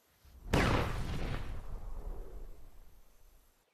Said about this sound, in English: That explosion was awesome!